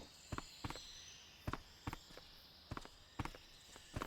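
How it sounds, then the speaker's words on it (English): Footsteps in the Metal Gear video game: steady, distinct thudding steps at an even pace, fairly soft and clear, with no talking over them. "It was making some weird footstep noises and I thought there might have been another guy."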